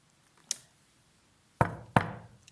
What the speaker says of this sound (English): A knock came on the door of the morning room where Phileas Fogg was waiting